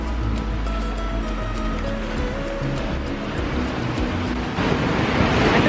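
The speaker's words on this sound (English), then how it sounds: "the ocean's too loud" Ocean waves washing in steadily near a vacation spot, a loud continuous surf that surges louder at the end, with faint wind on the microphone.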